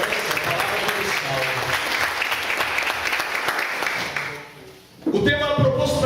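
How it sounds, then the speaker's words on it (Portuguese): A congregation at a Catholic prayer evening applauds steadily and loudly for about four seconds, then the clapping fades away and a voice begins speaking. "Vamos aplaudir a palavra de Deus."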